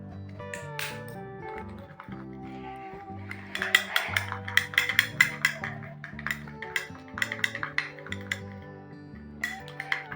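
Rose water face pack ingredients are stirred together in a bowl. Rapid, irregular spoon taps and clinks run over steady background music, getting busier midway through.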